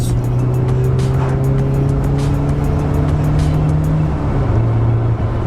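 A car held flat out in third gear, its engine note droning loud and steady as revs climb smoothly, heard close from inside the cabin with a brief dip near the end.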